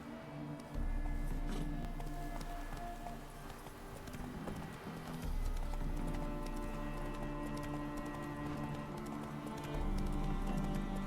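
Roach the horse galloping in The Witcher 3, with steady rhythmic hoofbeats continuing throughout, close and clear over a low droning background score.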